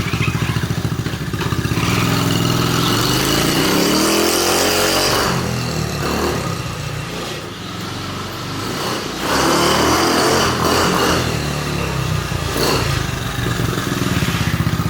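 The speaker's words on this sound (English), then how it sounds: "somebody driving a mini bike they haven't driven in 50 years" A Dead Head Trail 70 mini bike's small engine runs steadily and loudly close by on a test ride, its pitch climbing and easing through revs with a continuous drone and brief dips.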